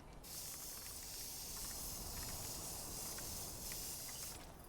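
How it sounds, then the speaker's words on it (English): A spray can in Death Stranding 2 hisses in one steady, continuous burst that lasts about four seconds. It starts and stops abruptly and is fairly faint, with no other sounds over it. "I'm just gonna use the spray one more time"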